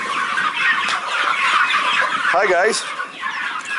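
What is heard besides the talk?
turkeys calling on a farm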